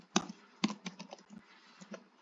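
Code being typed on a computer keyboard, with irregular close keystrokes, a few sharper louder key hits and softer taps between them, and no talking.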